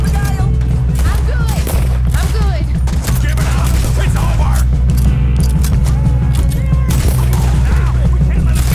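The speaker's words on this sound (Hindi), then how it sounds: "इतने ऐसे गोलियां खत्म हो जाएंगी चलाते चलाते।" Rapid, continuous gunfire in Red Dead Redemption 2 rattles loudly throughout over a dense game soundscape, with bursts overlapping and no pauses.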